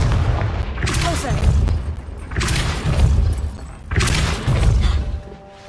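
Confringo blasting spells exploding in Hogwarts Legacy, three loud booming blasts with shattering debris and crackle, evenly spaced about every one and a half seconds, close and forceful with no talk between them.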